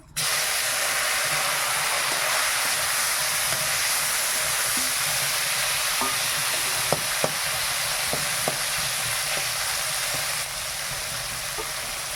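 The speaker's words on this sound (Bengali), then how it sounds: "কড়াটা বসিয়ে দিয়েছিলাম তেল গরম হয়ে গেছে মাছটা ভেজে নেবো" Fish sizzling steadily in hot oil in a wok, a dense broad hiss that holds through the whole stretch with a few soft pops and scraping clicks from stirring, close and continuous with no talking.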